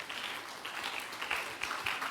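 Church congregation applauding the Lord after a sermon, a moderate, continuous patter of many hands with occasional cheers rising above it.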